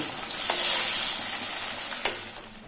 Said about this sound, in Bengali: বাকি যে মাছ রয়েছে সেই মাছগুলোকেও ঠিক একইভাবে লাল লাল করে ভেজে নেব